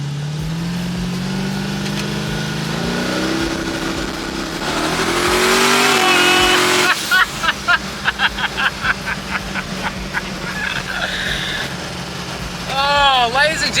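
A 1300-horsepower LS-engined car roars at a race track, its engine droning, building and revving loud and close, then pulsing in rapid repeated bursts, with a person talking over it.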